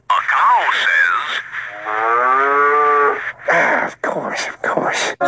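A human voice imitates a cow, drawing out a long, loud, wavering moo that bends up and down in pitch, followed by a few shorter vocal sounds.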